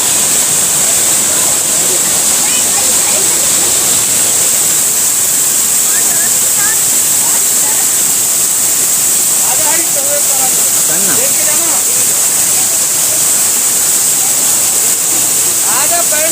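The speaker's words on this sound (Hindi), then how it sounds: "तो चलिए झरना देखते हैं।" The waterfall at Jatmai Ghatarani in Chhattisgarh gives off a steady, loud, hissing roar of rushing water that fills the whole stretch, with faint voices of a family group underneath.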